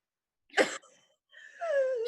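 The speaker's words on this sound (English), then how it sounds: "She's still coughing." A single harsh cough bursts out, followed by a pause and then a strained, moaning breath, close and fairly quiet.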